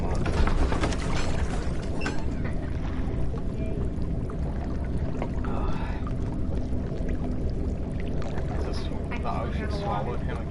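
Water sloshing and gurgling in Amnesia: The Dark Descent, a continuous rumbling wash with creaks and splashes running throughout.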